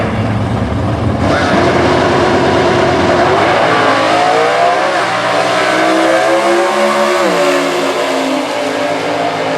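Two factory stock drag racing cars, a Chevrolet and a Chrysler, one automatic and one manual, launch with a loud engine roar, then rising revving pitch sweeps as they accelerate away and shift gears, fading slightly into the distance.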